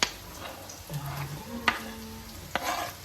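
Two chopped tomatoes dropped into chicken frying in a pan, a steady close sizzle with stirring scrapes and a couple of sharp utensil knocks against the pan.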